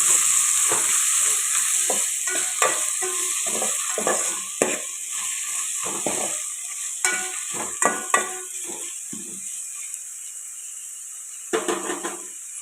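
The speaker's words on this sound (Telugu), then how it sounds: "ఇది కూడా టమాటాలు బాగా మగ్గిన దాకా ఫ్రై చేస్తుంది" Tomatoes fry in a pan for egg biryani, with a steady loud sizzle under repeated scraping strokes of a spatula stirring them. No one speaks.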